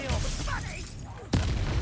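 The Expelliarmus spell is cast in a Harry Potter wizarding video game, making a crackling, booming magical blast that ends in a sharp, loud impact near the finish of the short burst.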